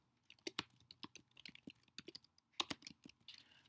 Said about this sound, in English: we can go up here and just start typing a dream